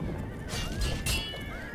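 Horse in the video game The Elder Scrolls IV: Oblivion letting out a short rising whinny over the soft thud of hooves, close and fairly loud.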